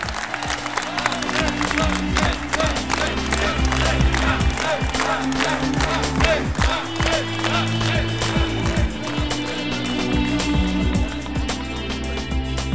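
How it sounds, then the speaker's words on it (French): A crowd applauds a politician at a regional election campaign launch, steady continuous clapping heard alongside music for the whole stretch. "Je vous demande d'applaudir Jean-Pierre Masseret."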